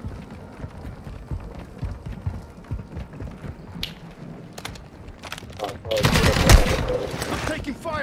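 Gunfire in Warzone 2, scattered shots under players' chatter, then a loud burst of rapid fire that swells near the end and stays heavy.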